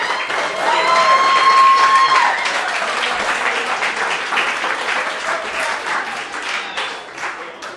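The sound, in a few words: wedding guests applauding and cheering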